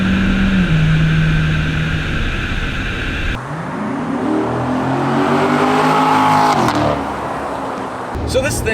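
A 2019 Chevy Corvette C7 Stingray with a 460 horsepower 6.2 liter pushrod V8 and 8-speed automatic, loud engine roar rising in pitch as it accelerates, a gear change partway through, with talk over it.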